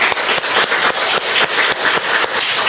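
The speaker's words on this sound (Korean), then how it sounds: "그런 선하신 하나님 앞에 우리 영광의 박수를 올려드리십시오" A church congregation claps together in a brisk, rhythmic applause, a dense and loud burst of hand claps with a steady beat throughout the short stretch.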